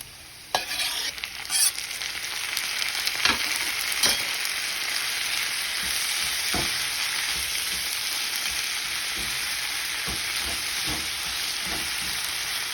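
Diced beef with tomato frying and being stirred in a pan for a beef stew, a steady close sizzle throughout with occasional scraping knocks of the spoon.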